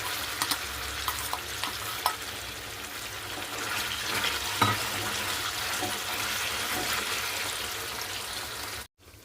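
Leafy greens dropped into hot oil for a thokku relish, frying with a steady, loud sizzle and crackle close by, with brief stirring clatters and a sharp scrape midway before it cuts off near the end.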